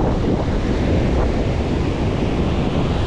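Strong southwest monsoon (habagat) waves and wind at the shore, a loud, dense, unbroken roar of surf with heavy wind rumble against the microphone, no talk.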